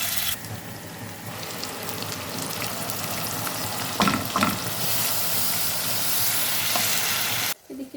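A big fish fries loudly in hot oil with garlic paste, a steady broad sizzle with brief louder crackles partway through, then a sudden drop near the end.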